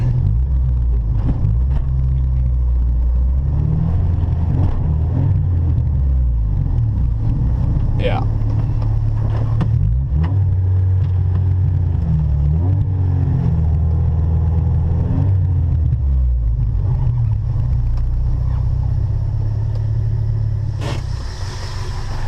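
A modified 1992 Honda Civic hatchback with a stroked 1.8-liter engine built closer to 2 liters, dual overhead cams and factory exhaust, idling loudly close by with repeated revs and a steady rumble, while a person talks over it.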